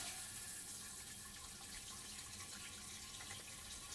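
Water rushing steadily into a Coachman Leprechaun 260DS RV toilet while the flush pedal is held down, a faint continuous hiss and splash with no voices.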